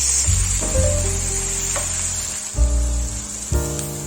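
Fried rice stirred in a frying pan over high heat, giving a loud, continuous sizzle with a few sharp scraping knocks as the spatula turns it.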